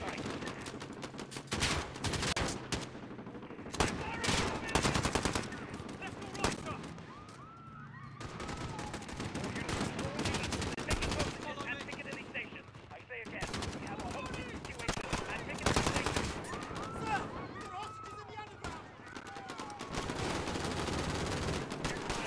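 Bursts of rapid automatic fire from an Uzi submachine gun in Modern Warfare, loud clustered volleys repeating across the span with short pauses between, over constant game ambience and occasional voice.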